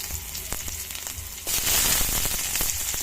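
Chopped onion hits a hot kawali already holding garlic for a Filipino mussel and pechay sauté. Soft clatter gives way halfway through to a loud, continuous, crackling sizzle, close up, with no talk.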